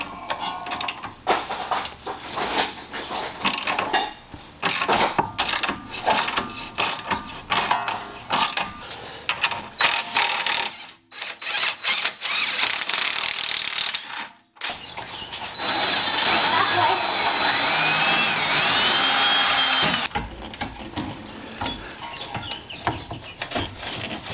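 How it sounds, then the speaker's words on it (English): A ratchet works a lower control arm bolt loose on a Jeep Cherokee KL during a lift install, with rapid clicking and ratcheting bursts, metallic clanks and a longer sustained stretch of mechanical noise, all close and fairly loud. "we're going to take the bolt off that holds the lower control arm"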